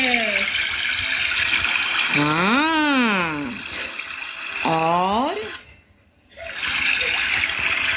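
A deep river rushes steadily as a camel carries a fox across it in a children's story, with voices speaking over the continuous flow before it briefly cuts out and returns.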